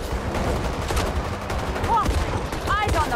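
Bursts of video game gunfire crackle and rattle close by over a busy mix of game noise and a few whistling tones, with a voice partly audible.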